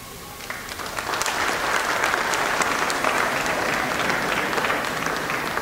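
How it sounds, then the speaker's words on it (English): An audience at a school performance depicting the coronation of the Maratha king Shivaji applauds, with dense, steady clapping swelling and holding loud and close for several seconds. "the crowd erupts in cheers, celebrating the new king"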